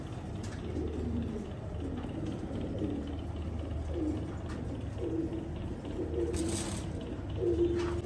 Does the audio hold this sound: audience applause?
no